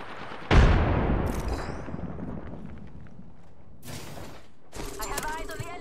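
A frag grenade in Apex Legends bursts with a loud, sharp blast that decays into a long rumbling tail, followed by a few shorter mechanical bangs and crackles of gunfire, close and forceful.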